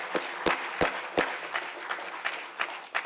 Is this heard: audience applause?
yes